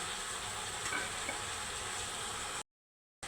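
Cucumber pieces frying in a pan, a dense, even sizzle that stays steady and close for a few seconds before cutting off.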